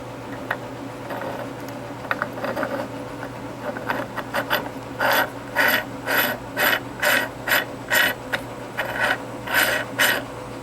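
Massey Ferguson 35 tractor steering box, not yet adjusted, being turned by hand during a rebuild: irregular ratcheting clicks and gear grinding that settle into a run of evenly spaced metallic clacks, close and clear with no talk.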